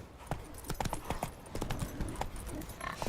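In The Witcher 3 the horse Roach gallops with a quick, close clip-clop of hooves and a brief snort or neigh, over a rumble of movement.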